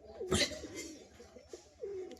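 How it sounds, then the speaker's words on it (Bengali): Male pigeons coo softly a few times, low throaty murmurs close by, with a brief rustle near the start. "দুটোই নর পায়রা ঠিক আছে"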